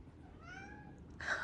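Cats meow in a sunlit room: one drawn-out, rising-and-falling meow, near and fairly quiet, followed by a brief burst of hiss-like noise.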